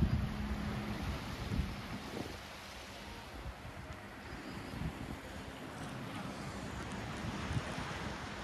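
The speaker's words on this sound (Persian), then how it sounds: "مشاهده میکنیم ما الان روی قایقیم" A steady motorboat engine drone on the sea off Qeshm Island, Iran, mixes with wind buffeting the microphone and water rushing past the hull, continuous and fairly loud, with no voices.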